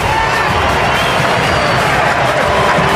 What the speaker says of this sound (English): The German faithful in the crowd erupt.